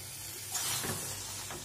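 Lote fish (Bombay duck) stir-fried in a pan over medium-high heat, moisture cooking off with a steady broad sizzle and a few stirring scrapes, close and moderately loud, no voices.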